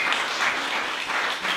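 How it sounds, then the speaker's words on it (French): Steady audience applause for a local community group at a gathering with a meal, a dense, even wash of many hands clapping together with no gaps across the short stretch. "on applaudit la chaudronnée"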